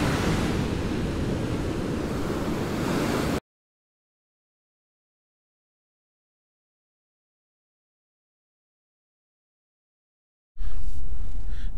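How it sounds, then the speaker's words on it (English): Huge ocean waves roar and wash on a beach near Ocean City, Maryland, as a loud, steady rush blended with wind buffeting the microphone, broken by a long stretch of total silence before the surf returns. "we're gonna try to see these huge waves coming in"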